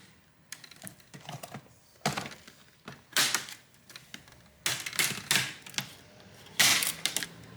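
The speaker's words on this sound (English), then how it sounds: "There we go, one trim piece removed." Screen trim is pried off an Acer Nitro 5 2021 AN515-57 laptop with a series of sharp plastic clicks and snaps. The bursts are irregular and close, with short quiet gaps between them.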